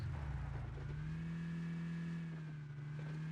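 A car engine droning steadily while driving across the map in a battle royale shooter game, a continuous mid-pitched hum with slight pitch shifts, fairly quiet and without talk.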